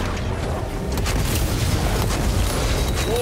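A plasma incinerator fires in Warhammer 40K Space Marine II, a loud, continuous roaring blast of booming, crackling energy that keeps going without a break, with no voices.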